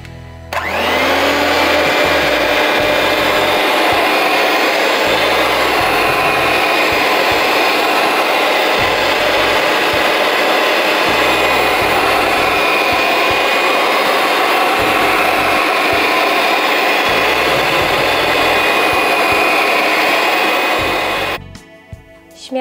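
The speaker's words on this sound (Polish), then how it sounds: "Do ubitej piany dodaję stopniowo cukier i miksuję do jego rozpuszczenia." An electric hand mixer whips egg whites while sugar is added gradually, for a traditional fluffy cheesecake. It makes a loud, steady, high whirring drone that runs without a break for about twenty seconds and then cuts off.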